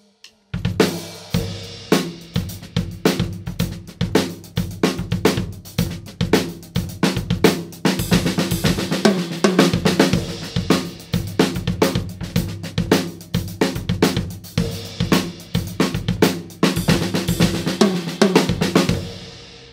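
Fast drum fill-in patterns for up-tempo songs on a kit, a dense, continuous run of loud snare, tom, kick and cymbal hits lasting about twenty seconds, played solo with no talking.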